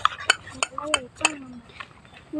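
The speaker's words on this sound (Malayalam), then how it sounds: "നന്നായിട്ട് ഇളക്കി എടുക്കണം." A utensil stirs food in a metal pot, giving a run of sharp, close clinks and taps in an irregular rhythm, with a soft voice faintly underneath.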